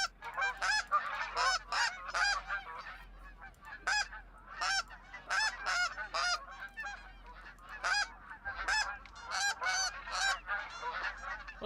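A flock of snow geese honks in irregular bursts of overlapping calls, moderately distant, with a low steady hum beneath, on an Alberta hunting ground.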